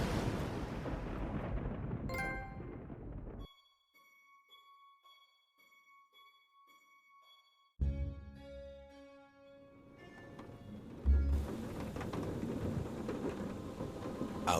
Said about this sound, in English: Outside, the storm raged.